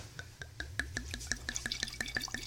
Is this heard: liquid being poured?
yes